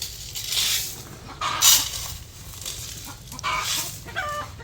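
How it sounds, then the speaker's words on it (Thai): Chickens clucking and cackling loudly on a Thai farm, several birds overlapping in bursts with a steady low rural hum beneath. "ไก่กับไข่ พี่น้องกระตากันสนั่น"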